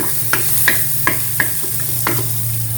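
Onions sizzle steadily over medium heat in a thin Teflon pan, broken by about six soft scraping stirs at a regular pace, close up and with no talking.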